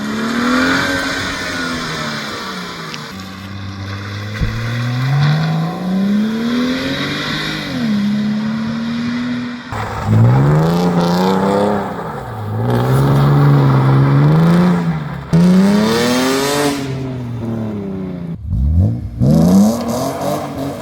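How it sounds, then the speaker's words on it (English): A high-mileage BMW M3 drives hard, its engine revving up and down through repeated rising pulls and gear changes, loud and close from inside the car, with no talking. "I let my friend Connor drive for a while"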